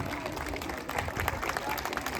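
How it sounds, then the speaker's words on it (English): Parents standing at a Republic Day school event applaud, giving a dense, steady wash of clapping from a crowd that holds at moderate level throughout. "Parents, a standing ovation for them. I want you to stand and clap"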